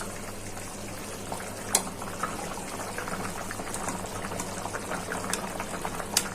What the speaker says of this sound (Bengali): তরকারিটা ভালো করে সিদ্ধ হয়ে যায়।